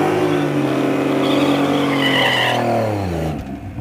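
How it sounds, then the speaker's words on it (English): A Hellcat does a loud burnout in second gear at a drag race, its roaring engine and squealing tires holding steady and close before fading at the end. "I don't need that much of a burnout."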